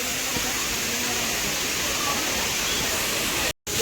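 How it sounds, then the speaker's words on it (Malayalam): A waterfall display at the Kochi water expo roars as a steady, dense rush of falling water, close and constant, with only a brief dropout near the end. "എങ്ങനെ ഉണ്ടായിരുന്നു വെള്ളച്ചാട്ടമൊക്കെ?"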